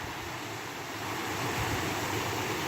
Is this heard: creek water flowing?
yes